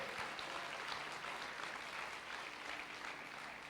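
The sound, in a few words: congregation applauding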